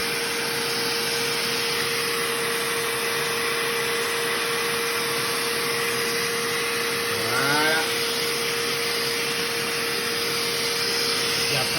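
A carpet shampooer runs with a loud, steady vacuum whine, wetting and sucking up water from a car floor mat, with a brief scraping pass partway through.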